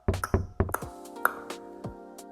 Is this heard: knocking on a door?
yes